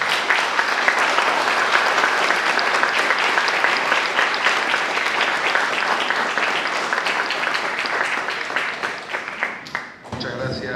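Sustained audience applause after a talk on legal and political disagreements in the Catalonia conflict, dense steady clapping that fills the room for about ten seconds before briefly thinning and picking back up.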